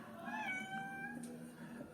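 A house cat meows several times in quick succession, drawn-out tonal calls close to the microphone over a low background hum, with no talking.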